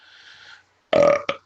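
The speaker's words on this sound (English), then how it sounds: "As I burp." One loud, close belch lasting about a third of a second, followed by a short second burp-like gulp, after a quiet hiss and brief silence.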